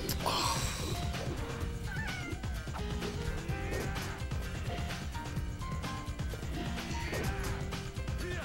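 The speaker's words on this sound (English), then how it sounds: "Cat!" A cat meows loudly in The Bouncer, a PS2 brawler, over dense game music and effects, with a drawn-out cry early on and more mews scattered through the busy mix.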